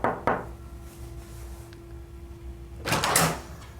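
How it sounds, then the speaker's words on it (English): Two sharp knocks rap on a door near the start, followed by a quiet pause and then a louder burst of rattling and clatter as the door seems to open, with no talking. "We're gonna knock on this door, hope that Mr. Al Safar opens the door"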